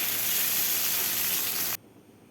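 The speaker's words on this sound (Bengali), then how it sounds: "আলুটাকেও দিয়ে বেশ কিছুক্ষণ সময় ভেজে নেব।" Potatoes fry in hot oil with a steady, close sizzling hiss that cuts off abruptly near the end.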